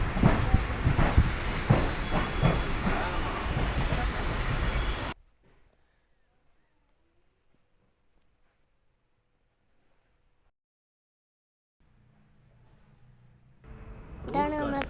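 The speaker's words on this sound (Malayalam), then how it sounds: "നമ്മുടെ ട്രെയിനാണ് വരുന്നത്" A train pulls into a station in Kozhikode, its loud rumble and rail noise filling the first five seconds before cutting to near silence, then a brief burst of other sound returns at the end.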